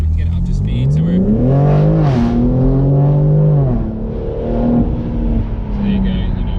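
A BMW M4 with a titanium exhaust revs up and settles while driving, its rising and falling drone loud and close, with a voice talking briefly at the start.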